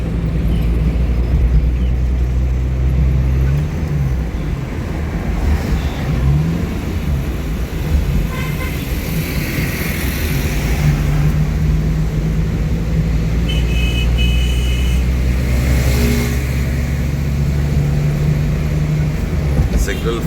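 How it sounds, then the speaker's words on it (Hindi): Busy road traffic flows through Lahore city streets, a continuous loud rumble of car engines with revving passes and occasional horn toots, while someone talks over it. "लेकिन ट्रैफिक कहीं नहीं रुकती"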